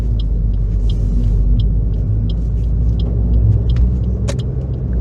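Close, steady low rumble of a car engine and road noise as the car pulls away during a driving lesson, with faint ticking clicks over the drone and no talk.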